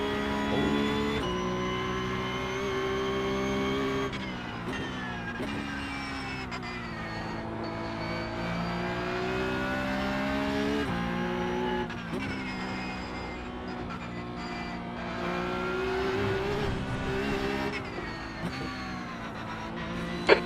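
Porsche Cup race car in iRacing on the Nürburgring during an endurance race, its engine a continuous high-revving wail rising and falling through gear shifts, loud and close throughout.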